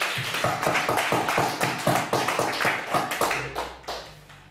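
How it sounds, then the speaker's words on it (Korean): Church congregation clapping together during a Sunday worship service, a fast, rhythmic run of sharp claps in unison, fairly close and steady, tapering off at the end. "믿고 감사하며 박수 드리겠습니다"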